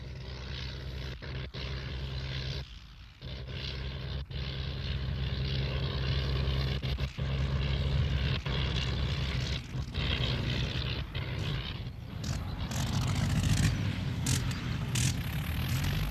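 Emma, Mr. Dermot's early propeller airplane, drones with a steady, rough engine buzz close by, continuous and moderately loud, with a few brief gaps and bumps.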